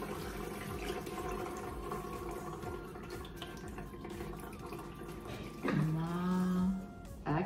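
Water pours steadily from a toddler urinal after its button is released, a constant trickling and splashing that continues throughout, faint and close.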